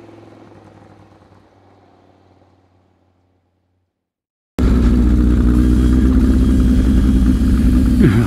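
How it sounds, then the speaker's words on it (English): A muscle bike motorcycle engine roars loud and close, a steady heavy rumble that bursts in suddenly after a faint, fading earlier engine noise and near-silence on a road trip to Bathurst. "Gotta love a muscle bike"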